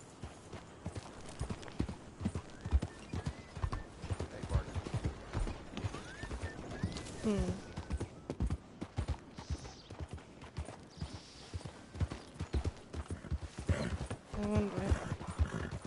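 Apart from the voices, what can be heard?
horse hooves clip-clopping in a video game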